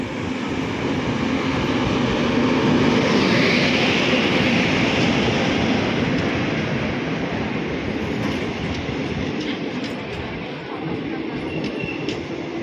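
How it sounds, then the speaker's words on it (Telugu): A passenger train pulls into Nandyal railway station with a loud, sustained rumble of wheels and carriages, faint squeals and rattles, heard close on the platform throughout. "నేను ఎక్కాల్సిన ట్రైన్ అయితే వస్తూ ఉంది గైస్"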